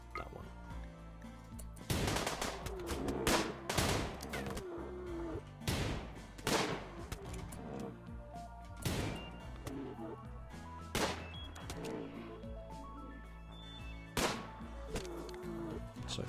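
Gunfire in a RimWorld colony battle, sharp loud shots cracking repeatedly at irregular intervals over a steady low background drone, with a voice speaking between shots.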